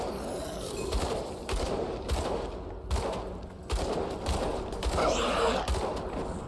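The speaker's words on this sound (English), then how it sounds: "so that's an explosion." Explosion and combat effects in the action role-playing game Grim Dawn, a dense run of repeated bursts and crackling blasts at steady loudness throughout, no talking over it.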